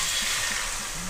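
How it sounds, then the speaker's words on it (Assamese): Water poured into a pan of frying chicken curry masala, producing a steady broad hiss and sizzle with faint low bubbling underneath, continuous and close. "এতিয়া ইয়াত পানী দিবলৈ সময় হৈছে পানী দি দিম"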